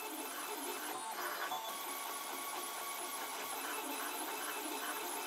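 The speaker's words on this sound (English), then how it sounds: "Now this should take about 1 hour approximately to print out these two pins." A 3D printer printing two small pins whirs with high, rapidly warbling stepper-motor tones and faint mechanical rattles, a continuous busy hum heard up close without talk.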